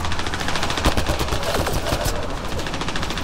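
Rapid, dense gunfire in the PC game Mass Effect Andromeda, a close and loud stream of automatic shots with a rhythmic stutter, sitting over busy game ambience.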